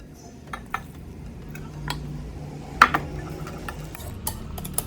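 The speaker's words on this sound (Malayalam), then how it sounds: "നമ്മുടെ നൂഡിൽസ് ചേർത്ത് കൊടുക്കാം." Noodles are tipped into an egg and vegetable mixture in a pan and stirred, giving soft scraping and a few sharp clinks of utensil against the pan over a quiet background.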